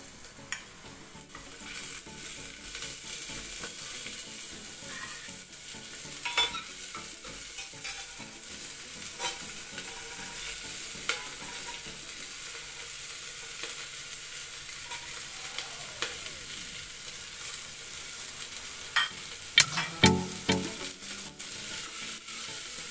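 Medium onions, sliced lengthwise, fry in a tablespoon of hot oil for a mutton pepper roast, giving a steady close hiss. Intermittent scraping and stirring clatter from the pan sounds over the sizzle.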